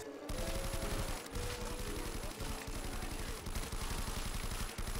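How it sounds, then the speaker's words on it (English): LSAT light machine gun firing in Call of Duty: World at War custom zombies, a dense, loud rapid rattle of automatic fire that runs almost continuously with a few brief breaks. "What is this LSAT fire rate? Just shoots for a minute, stops, shoots for a minute, stops."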